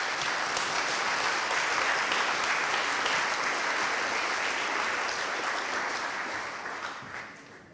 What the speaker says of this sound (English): I'd like you to give a huge round of applause for Randy Ostro, please.